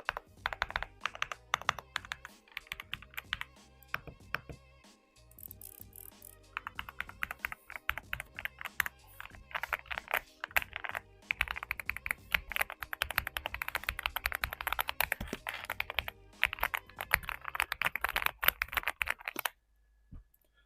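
Close, rapid typing on a mechanical keyboard, an AULA F75 or AJAZZ AJ820 from AliExpress, rattles on as a dense, continuous stream of crisp key clacks with brief pauses, no voices.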